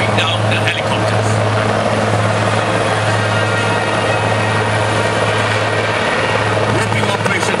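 Loud, steady helicopter rotor drone with deep pulsing throb and engine whine, continuous throughout, close by, as commandos rope down during an air force aerial display.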